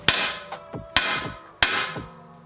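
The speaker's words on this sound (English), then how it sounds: "we're gonna hit that with a hammer." A hammer strikes the flat part of a third-generation Toyota Tacoma steering spindle to break loose the upper control arm joint. Three sharp metallic blows land about two-thirds of a second apart, close and ringing, with lighter rebounds between them.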